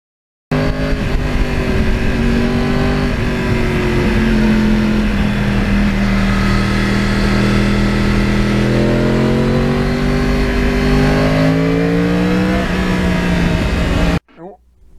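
A Yamaha R1 crossplane motorcycle engine hums and revs while riding through a lake area in northern New Jersey, loud and close, its pitch rising and falling smoothly across one long continuous pull before cutting off abruptly.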